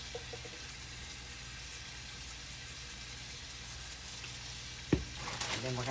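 Hamburger meat frying in hot grease in a pan, a steady faint sizzle throughout with a brief clatter near the end, quiet and continuous.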